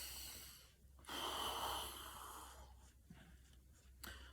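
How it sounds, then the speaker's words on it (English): A person breathes in through the nose and out through the mouth during a soccer warm-up, with soft, close, audible breaths and snort-like inhales over quiet background hum. "Making sure you're breathing into your nose, out through your mouth, into your belly"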